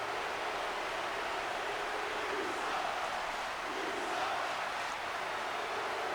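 An arena crowd in a wrestling video game roars steadily, a dense, continuous wash of cheering that holds at an even level throughout, with no talk over it.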